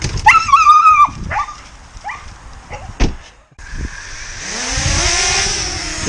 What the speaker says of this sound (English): Couple of excitable dogs in the back